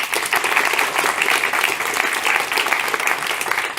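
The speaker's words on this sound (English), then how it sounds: "I would like you all to give a round of applause to all the startups that participated" A room of people applauds the startups at a pitch competition, with steady, dense clapping throughout and no break.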